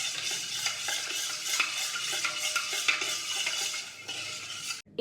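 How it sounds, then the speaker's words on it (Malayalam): Mango powder, cornflour and sugar are stirred in a large vessel, a utensil scraping and clinking against the sides in quick repeated strokes, close and continuous, ending with a sharp knock. "നന്നായിട്ട് നമുക്ക് മിക്സ് ചെയ്ത് കൊടുക്കാം കേട്ടോ"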